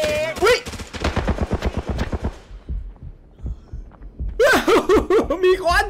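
Rapid automatic gunfire crackles in the Arena Breakout shooter, bursts of close shots in quick rhythm separated by a pause, with a player talking excitedly over the action.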